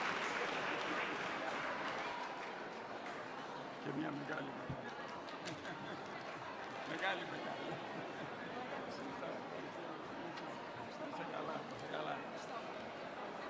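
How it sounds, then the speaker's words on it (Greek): At a Red Cross event in the Zappeion hall, an audience gives warm applause, an even wash of clapping lasting over ten seconds with voices and chatter mixed underneath. "της αξίζει ένα θερμό χειροκρότημα"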